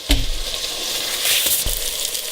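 Onions brown in butter and oil in a pan, sizzling loudly and close up for the whole stretch, with a couple of low thumps from the pan and no talking.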